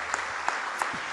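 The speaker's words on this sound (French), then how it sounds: "Vous applaudissez ce projet, s'il vous plaît." Brief applause from an audience at an awards event, a continuous wash of clapping with a few distinct sharp claps standing out near the listener.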